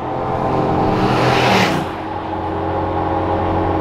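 A Lamborghini Aventador V12 engine revs hard, swelling to a loud peak before easing back into a steady, rumbling idle.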